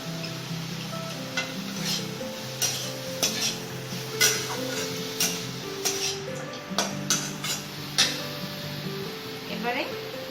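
Chicken soup ingredients stirred in a pot for a momo meal, with a utensil clinking and scraping against the metal in irregular taps alongside a faint simmer, while a person talks throughout.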